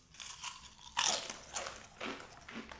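Potato chips being bitten and chewed up close, a sharp crunch followed by several softer crunching chews in a quiet room.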